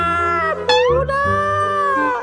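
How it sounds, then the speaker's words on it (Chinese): A pet cat gives one long, drawn-out meow close by, rising and then holding its pitch, with no other sound around it. "我的这些小猫好像也长大了"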